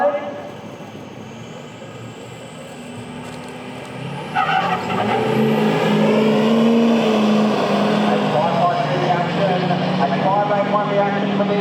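Duramax-engined Nissan Patrol launching on a drag strip at a King of the Strip event, a diesel engine idling before a loud roaring run with tyre noise, under a commentator's voice.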